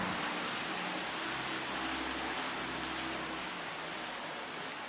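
Steady rain falling on a city street in Bologna, a dense continuous hiss with faint low traffic rumble underneath and no voices.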